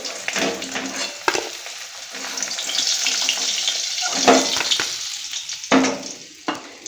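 Rohu fish pieces fry lightly in oil with an uneven crackling sizzle, broken by a few sharp clicks and scrapes as the pieces are moved around the pan, close and fairly loud with no talking.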